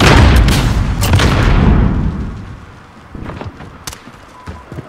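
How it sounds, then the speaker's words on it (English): A stun bomb detonates in Call of Duty Modern Warfare with a loud, close boom and a rumbling tail, followed by fainter scattered pops and thuds. "Stun bomb out!"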